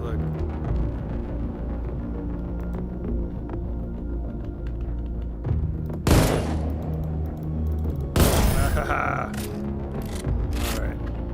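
An enemy player opens fire in the survival shooter Decimated: bursts of gunfire crack sharply twice over a low droning game hum, with someone talking alongside.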